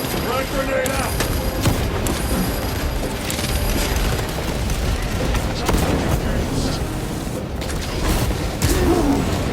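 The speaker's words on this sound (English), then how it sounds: "Frag grenade out!" Frag grenade blast amid continuous loud game combat in Warhammer 40000: Space Marine 2, dense gunfire and booming explosions filling the scene with voices underneath.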